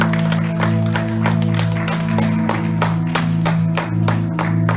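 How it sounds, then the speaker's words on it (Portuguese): A church congregation applauding during a worship service, rhythmic clapping in a steady beat over a sustained organ-like tone filling the room. "Quem pode dar um aplauso ao Senhor?"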